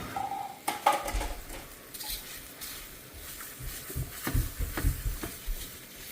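Food slides and scrapes across a dry Ninja non-stick frying pan with no oil, giving light clatters and soft taps against the pan, with a few sharper knocks spread through the clip and no talk.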